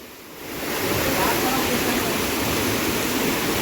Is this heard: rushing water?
yes